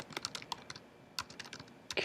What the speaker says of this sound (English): we're just going to type out all the roles in our band